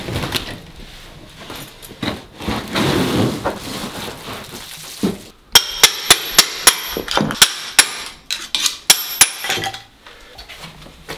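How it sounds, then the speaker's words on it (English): Blown wall plaster in a hallway is tapped, giving a run of about a dozen sharp, hollow knocks in quick irregular succession after a stretch of softer scraping and rustling. "the amateur way, to find out if the plaster's blown is literally just to tap it. You can hear that's quite hollow."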